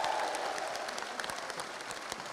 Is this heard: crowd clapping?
yes